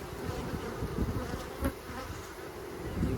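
A dense, steady buzz of many honey bees in a winter hive fills the clip, close and continuous, with no voices.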